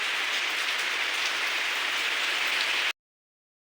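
Heavy rain pouring steadily onto surfaces, a dense, loud, even hiss that runs unbroken for about three seconds before cutting abruptly to silence.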